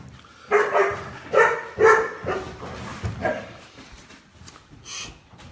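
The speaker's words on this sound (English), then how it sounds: "my dogs are barking" Dogs bark in a home, several loud close woofs in an irregular burst, then softer yips and whimpers trailing off toward the end.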